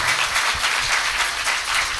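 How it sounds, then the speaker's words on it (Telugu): A church congregation clapping together in dense, continuous applause, loud and close throughout with no break. "నమ్మిన వారు చప్పట్లు కొట్టేసి హల్లెలూయా"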